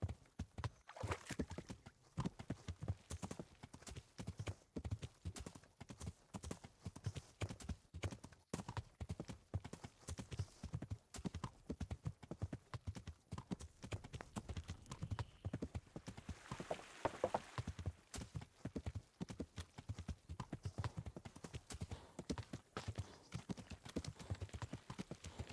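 Horse hooves clip-clop steadily in a brisk, even rhythm in the video game Kingdom Come: Deliverance, close and clear, continuing throughout with a light rustle in the background.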